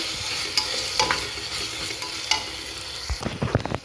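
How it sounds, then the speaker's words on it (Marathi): Tomatoes sauté in spice paste over a low flame for a matar pulao, with a steady soft sizzle and several sharp scraping clicks of a spoon stirring the pan, busier near the end. "टोमॅटो चांगला गाळ होईपर्यंत परतून घ्यायचं बारीक गॅसवर."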